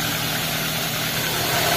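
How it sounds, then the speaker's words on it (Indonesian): A Chery Tiggo 2.0 with a head gasket problem idles just after a cold-morning start, giving a steady, low, smooth hum with a faint vibrating buzz, heard close and alone. "Suara mesin halus."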